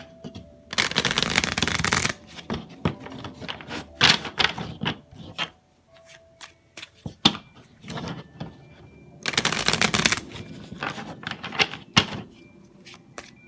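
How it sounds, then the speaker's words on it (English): A mermaid tarot card deck is shuffled in two long riffling bursts, with scattered taps and card handling in between, close and fairly loud with no talking. "So I'm going to focus on that energy and shuffle the deck."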